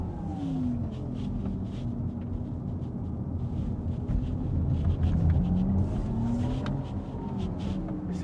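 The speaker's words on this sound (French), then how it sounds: "le fait d'avoir le bruit qui s'interrompt et qui recommence comme si on changeait de vitesse" Synthetic drive sound of a Porsche Taycan Sport Turismo GTS electric estate, a low steady hum with rising and falling tones like simulated gear changes, heard continuously from inside the car.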